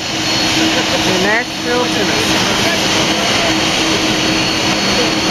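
Air Force One jet departing in Nashville, a loud continuous engine roar filling the recording, with someone talking briefly over it near the start.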